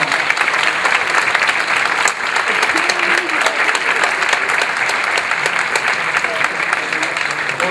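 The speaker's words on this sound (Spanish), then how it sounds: "todos ustedes también conmigo le vamos a dar un generoso aplauso que bien lo merece" A large audience applauds generously at a criminal law conference, loud and close with continuous crowd clapping that holds strong for several seconds, and a brief voice surfaces faintly partway through.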